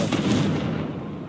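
A Confringo fire spell explodes in Hogwarts Legacy, a close, loud burst with a blast-like onset and a sustained rumbling roar that slowly fades over a second, with no voices.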